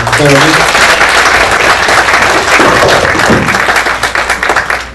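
Applause from the audience at an international scientific conference fills the hall, steady and loud throughout, with a voice briefly heard near the start and another late in the clip.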